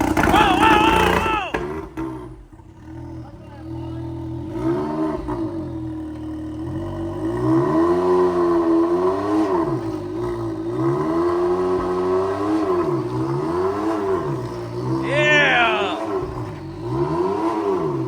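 A 300 horsepower X3 side-by-side engine revs hard in repeated rising and falling surges over a steady idle, loud and close, with a brief drop partway through and a voice talking briefly near the start.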